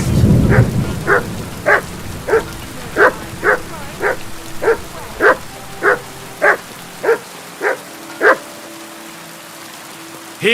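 The dog Mutt in Kingdom Come: Deliverance 2 barks in a steady series of about a dozen sharp, evenly spaced barks, loud and close, over a faint background hiss.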